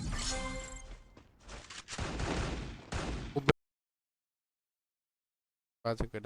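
Gunfire from the mobile battle-royale game Free Fire rattles in dense bursts of shots with game effects, then cuts to silence before a brief final burst.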